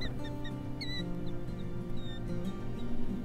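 Many shorebirds and gulls calling at once at Antelope Island State Park, with repeated high squeaky cries over a dense, steady chorus of lower calls; continuous and fairly loud.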